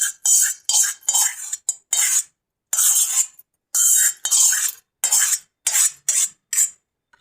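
A spoon stirs and scrapes hair dye paste mixed with leaves in a bowl, making a run of short, close, gritty scraping strokes in an uneven rhythm with brief silences between them.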